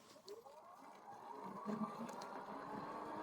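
A Heybike Ranger 3.0 Pro e-bike hub motor accelerating on throttle alone, a steady whirring whine that rises in pitch and grows louder over a few seconds, with faint road and wind noise underneath.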